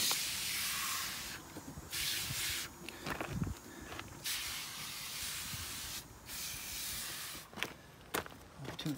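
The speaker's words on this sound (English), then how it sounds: "I'm going to spray some rim cleaner on it." Repeated bursts of aerosol rim cleaner spray hiss onto a greasy John Deere transaxle part, close by, in short pulses with brief pauses, plus some light handling noises.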